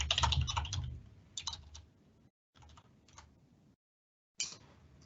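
Bursts of fast typing on a computer keyboard, close and fairly quiet, with short pauses between runs of clicking keys.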